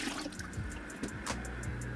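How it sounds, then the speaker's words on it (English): Water runs into a bucket from a hose line during a drip irrigation setup test, a close, steady splashing pour with bubbling gurgles and small drips over two seconds. "we're gonna test it by filling this bucket with a few gallons of water"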